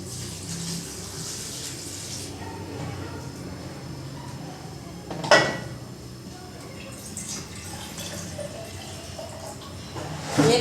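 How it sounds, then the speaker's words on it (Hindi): Water pours from a mug into a cooking pot while beef is being cooked, a steady splashing stream with a sharper splash midway and another at the end, close by. "इसमें पानी डाल देंगे।"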